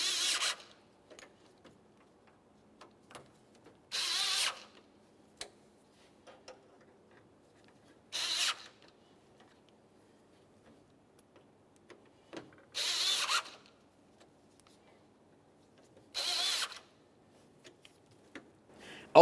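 Short bursts of a power driver snugging up screws on the front bumper cover of a 1994-1997 Honda Accord, five spaced whirs with quiet gaps and small clicks between them, close by.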